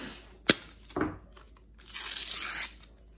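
Masking tape peeled off a hard-edge acrylic painting: a sharp rip, a second shorter tear, then a longer steady stripping rasp, close and alone.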